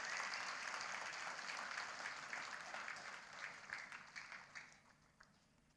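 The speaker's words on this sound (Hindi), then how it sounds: "एक बार जोरदार तालियां बजाएं" A seated crowd at a political speech gives loud applause honouring the movement's workers, a thick wash of clapping that holds strong for several seconds before thinning and tapering off near the end.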